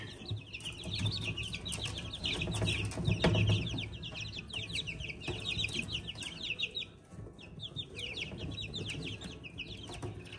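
Four-week-old Jersey Giant chicks in a brooder keep up a dense, continuous chorus of high peeping and clucking, fairly close and busy throughout.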